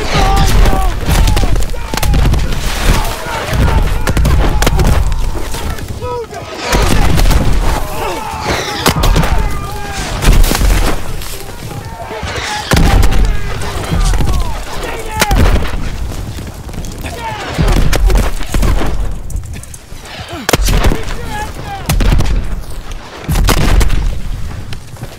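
Artillery and gunfire in the Call of Duty WW2 Battle of the Bulge, with heavy, repeated booms and shots rolling throughout, loud and close, with voices shouting over the barrage.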